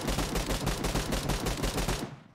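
Rapid automatic gunfire from a weapon in the battle-royale video game BGMI, a dense, steady burst of loud, evenly spaced shots lasting about two seconds before cutting off abruptly.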